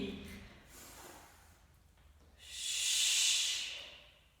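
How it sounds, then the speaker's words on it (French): A long, airy breath pushed out during a balance exercise, a soft hiss swelling and fading after quieter breathing, close to the microphone. "Inspire,"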